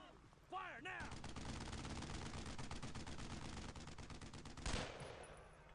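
Sustained machine-gun fire in a World War II-style war video game rattles in rapid bursts for several seconds, loud and close, with a heavier blast near the end and a brief whistling sound at the start.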